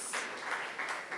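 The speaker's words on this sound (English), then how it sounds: "start with another round of applause for our very own Ladli" Brief, fairly faint round of audience applause at a foundation day celebration, a soft patter of clapping with slight swells.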